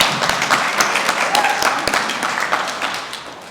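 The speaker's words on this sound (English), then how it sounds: "Let's give another round of applause." Audience applause at a talk, a dense, even wash of many hands clapping with a few sharper close claps standing out, tapering slightly toward the end.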